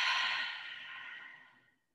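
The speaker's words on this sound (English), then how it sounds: "Take a nice deep exhale." A single deep exhale during yoga breathing, a soft airy breath that starts full and fades away over about two seconds, close and alone, no talking.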